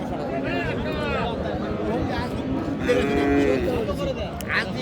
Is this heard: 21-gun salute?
no